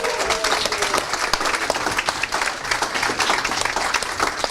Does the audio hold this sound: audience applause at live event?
yes